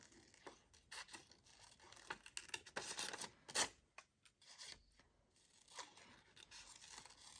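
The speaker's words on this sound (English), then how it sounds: "I just whiz around and snip it all off" Scissors snipping around the edges of hinged paper journal cards, quick irregular cuts and rustling paper close to the microphone, fairly quiet with short pauses between bursts.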